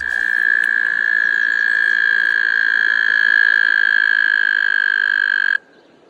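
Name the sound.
frogs croaking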